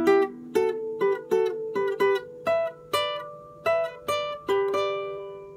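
Plucked guitar notes play a short melodic phrase, about a dozen clear attacks in an even rhythm, each ringing briefly. Close and fairly quiet, with no voices.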